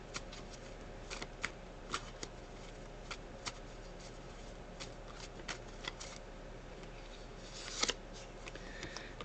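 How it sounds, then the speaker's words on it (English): Oracle cards are shuffled in the hands, a soft continuous riffling and flicking with small taps, quiet and close over a faint steady hum. "Let's see if there are any cards from the Advice Oracle."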